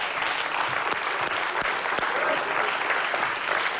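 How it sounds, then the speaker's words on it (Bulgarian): Studio audience applause on the Bulgarian game show Deal or No Deal, a steady, loud wash of clapping that carries through the whole stretch without a voice over it. "Аплодисменти за Шукрю!"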